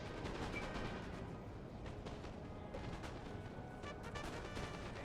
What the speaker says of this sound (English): Prussian Fusiliers fire extremely fast